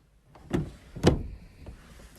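A clothes drawer in a column of drawers in a large apartment slides open, with two distinct rolling thumps close by, then a faint softer slide after.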